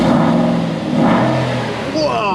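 Modified Aston Martin V8 Vantage engine revving loudly up close, deep rumbling swells rising and falling in pitch, with a person talking over it.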